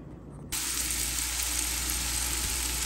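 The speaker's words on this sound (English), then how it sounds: "I'm going to cook this on a medium heat until the onions and carrots start getting tender." Onions, carrots and chopped celery with leaves hit a hot pot for tomato bisque: after a brief quiet moment, a sudden loud, steady sizzle begins and continues evenly.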